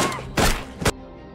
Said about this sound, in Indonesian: Karena tidak mengindahkan peringatan, Anna terpaksa menembaknya.